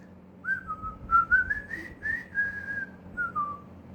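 A single person whistles a tune, the theme of The Andy Griffith Show, as a thin, wavering melodic line of several linked notes, close and fairly quiet, with no talk over it.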